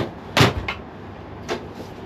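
A Ford Fiesta MK2 door being opened during floor repair work: a sharp click and clunk of the latch and hinge, followed by a softer knock and another faint click, close by with no talking.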